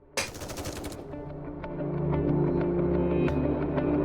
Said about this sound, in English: Dobin's troops fall to the ground in a hail of gunfire.